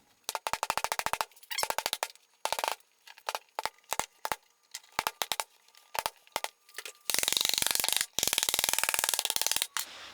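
Clamps are tightened slowly on a glued wood joint, giving sharp, rapid ratcheting clicks in bursts with gaps, then a longer dense rasping run near the end, close and loud.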